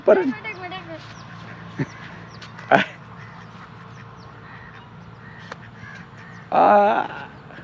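Ducks quack loudly in short harsh bursts while chasing a boy outdoors, with a long raucous volley near the end; people talk and call out between the squawks.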